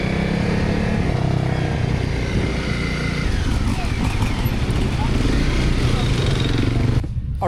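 A Honda CRF dual-sport motorcycle rides an enduro single-track trail, its engine droning steadily and loudly throughout with heavy low rumble and wind noise, and the sound drops off abruptly near the end.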